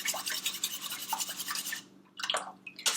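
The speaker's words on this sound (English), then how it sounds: "break those eggs up, mix it all together" Eggs are beaten in a bowl for pancakes, making quick rhythmic scraping and swishing strokes close up, with a brief pause before the mixing starts again.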